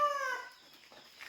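Free-roaming chickens at an off-grid farm cluck and squawk close by, a short burst of raised, strained calls that tapers into quieter background rustle.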